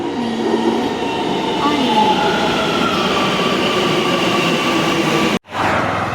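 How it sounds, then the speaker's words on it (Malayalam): A metro train rumbles in loudly with a steady roar and faint squealing wheels, ending in a sudden brief cut. "ഇതാ നമ്മുടെ മെട്രോ ഇതാ അടുത്തെത്തിയിരിക്കുന്നു"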